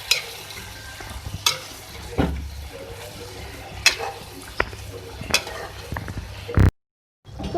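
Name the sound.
marinated beef keema being stirred and cooked with mashed tomato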